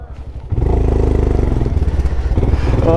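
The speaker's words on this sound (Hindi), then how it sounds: "इंटरनेशनल बॉर्डर क्रॉस कर रहे पहली बार विद माय ओन मोटरसाइकिल" A motorcycle is ridden across the India–Nepal border. Its mid-pitched engine starts up with a thump and then runs loud and close with a steady chugging rumble.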